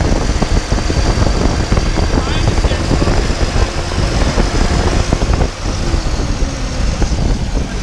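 A Toyota 4Runner's engine revving after a cold start: a loud, close, continuous rumble with gas pushed up and easing, while a voice talks over it.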